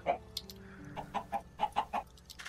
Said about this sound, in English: Good thing we placed all those chickens.